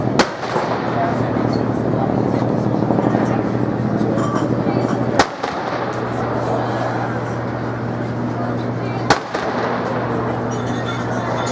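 Simulated 4-inch naval gun firing aboard HMS Belfast at a D-Day event, with three sharp loud blasts spread across the stretch over steady crowd murmur and background noise.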